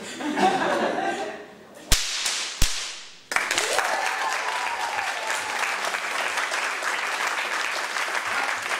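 Three sharp, loud whip cracks from a single throw, spaced about a second apart, followed by a crowd cheering and applauding in a long, steady roar.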